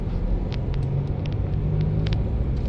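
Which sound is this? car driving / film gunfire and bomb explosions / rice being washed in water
car driving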